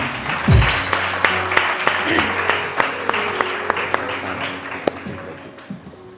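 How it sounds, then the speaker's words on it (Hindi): A TV morning-show studio audience claps to welcome guest Saman Ansari, brisk loud applause with distinct individual claps standing out, plus a low thump at the start and a voice briefly over it. "समन के लिए बहुत सारी तालियां।"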